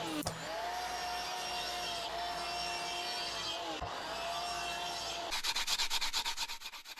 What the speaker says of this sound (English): After some sanding, it came out quite nice.